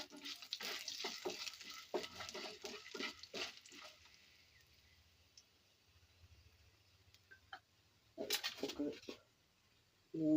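Dried red chillies frying in a pan for masala dosa, with faint crackling sizzle and repeated spoon scrapes and clinks, a quiet stretch midway, then more stirring bursts.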